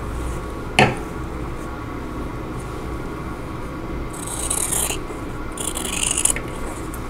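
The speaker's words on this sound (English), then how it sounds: "I want to trim off, leaving a 1/4 inch seam allowance" A fabric corner is trimmed from a quilt block with scissors or a rotary cutter, giving a soft crisp cutting rasp in two short bursts after an earlier sharp tap, close and quiet, with no talking.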